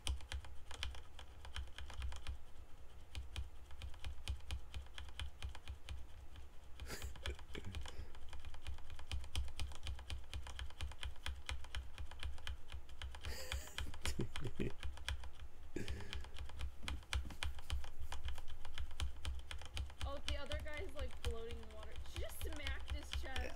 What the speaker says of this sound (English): Can you hear my keyboard clicking?